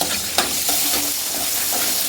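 Onion and garlic added together to a hot pan, frying with a steady sizzle and occasional stirring scrapes close up, no voices.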